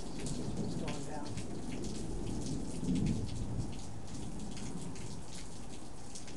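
A summer thunderstorm pours steady heavy rain, with a low rumble of thunder swelling near the middle and no talking.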